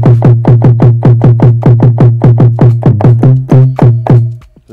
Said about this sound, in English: it's a very, very strong 808 kick. I used it in almost all my beats